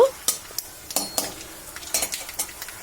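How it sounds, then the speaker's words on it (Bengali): Mustard seeds and dried red chillies tempering in hot oil: scattered sharp crackles and pops with light spoon-against-pan clicks, fairly faint and irregular over a quiet background. "ওই বড়ি ভাজার তেলেই দুটো শুকনো লঙ্কা ফাটিয়ে নিয়েছি আর হাফ চা চামচ সর্ষে ফোড়নের জন্য দিয়ে দিয়েছি ফোড়নটাকে একটু ভাজা ভাজা করে নেব"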